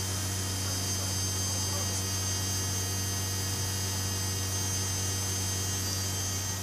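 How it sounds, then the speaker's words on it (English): A DC motor runs on a recharged battery, giving a steady, unbroken electrical hum with a faint hiss. It stays constant and fairly loud throughout, with no voices. "With the motor running."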